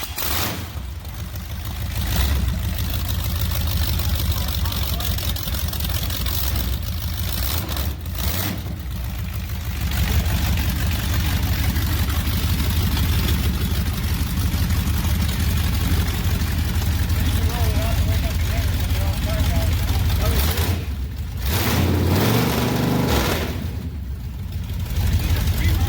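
A 1969 Plymouth GTX barn find with stock pipes runs on its old choke, a steady close engine drone with a couple of brief dips and blips, while someone talks over it.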